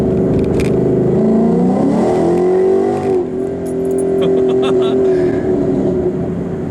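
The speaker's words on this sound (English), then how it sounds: "As soon as we get over this bridge, we'll do a second gear pull." A modified 2014 Ford Mustang GT 5.0 pulls hard in second gear, its loud engine note climbing, briefly dipping, then rising again while the car is driven close up.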